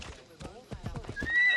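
A horse in the video game Assassin's Creed Odyssey gives a whinny, then trots with a quick run of clip-clopping hooves, close and fairly loud. Tonal game sound rises near the end, and someone talks over it.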